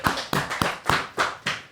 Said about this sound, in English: should we get a clap from the audience?